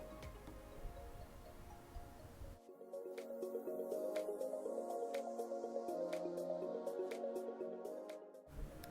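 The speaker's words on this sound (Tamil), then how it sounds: "இப்போ பழத்தையெல்லாம் போட்டு வச்சுருக்க அச்சில் ஒரு கரண்டியாக எடுத்து ஃபுல்லாக ஊற்றிடுங்க" Liquid fruit jelly ladled into molds, with a soft pour followed by a string of small regular drips and ticks, close and quiet, no voices.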